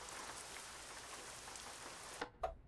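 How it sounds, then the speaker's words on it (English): Steady rainfall in Euro Truck Simulator 2, a dense even patter of drops on surfaces with a couple of sharper knocks near the end, no talking. "It's still raining."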